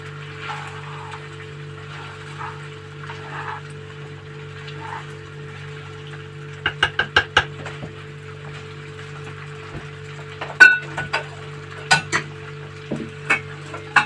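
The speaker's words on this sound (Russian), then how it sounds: "Все перемешиваем, солим, специи добавляем" A spoon stirs food in a pot as salt and spices go in, sending short bursts of clinks and scrapes against the metal over a steady background hum, with no voices.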